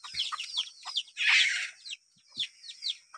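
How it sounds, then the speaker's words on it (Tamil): Garden chickens pecking at papaya fruit give a run of short, close clucks and chirpy calls, with one longer, louder squawk partway through and brief pauses between the calls. "பக்கத்தில் பார்த்தீங்கன்னா கோழி பப்பாளி பழத்தை வந்து கொத்தி தின்னுக்கிட்டு இருக்குது"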